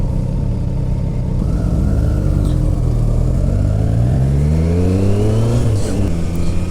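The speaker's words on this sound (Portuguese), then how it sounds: "estamos a bordo de uma Triumph Street Triple 765 RS" Triumph Street Triple 765 RS motorcycle engine while riding, a loud close throaty drone that climbs through the revs in several rising sweeps, with wind rush over the top.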